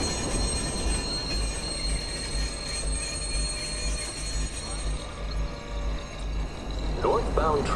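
A subway train in Watch Dogs rumbles close by with metallic squealing wheels and a low steady drone; a brief station announcement voice appears near the end.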